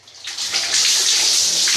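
Hot bath water poured during a bath, a loud, close, rushing splash that swells quickly and then holds steady, with no talking.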